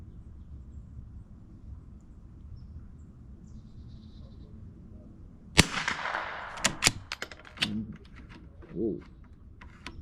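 A CZ 457 rimfire rifle loaded with Eley Match ammunition fires a single sharp, close crack against a quiet background, followed by a few lighter metallic clicks and handling noises.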